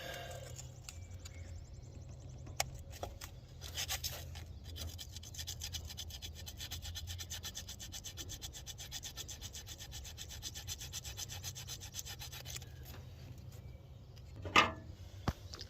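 Sheets of 400 grit body sandpaper rub and rasp steadily against corroded ignition points on a 1947 Willys Go Devil engine, a close, continuous scratchy scraping with a few brief knocks and a sharp click near the end.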